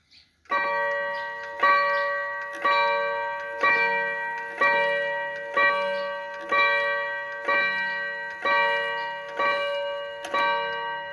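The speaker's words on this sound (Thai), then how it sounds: "ตีเพาะนะครับตัวนี้เสียงออกทุ้มนุ่มนวลนะครับ" Vintage Seiko 30-day wind-up wall clock striking the hour with about ten evenly spaced, mellow gong-like chimes, each ringing on and fading before the next, loud and close with no talk.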